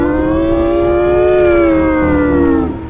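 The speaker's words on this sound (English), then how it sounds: "sirens start to blare" A loud siren wails steadily for nearly three seconds, its pitch holding then sliding down as it winds off at the end.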